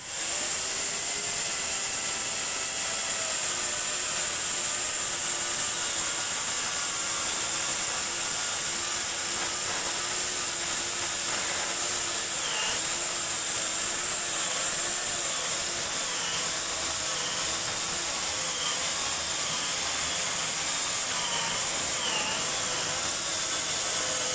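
A high, whining electric chainsaw motor (GTM) roars continuously at close range, steady and unbroken, with a gritty, buzzing edge as the chain bites through a wooden stump.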